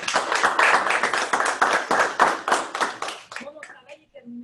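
Applause at a municipal council meeting of mayors, many hands clapping steadily and close for about three seconds before tapering off into a few scattered claps.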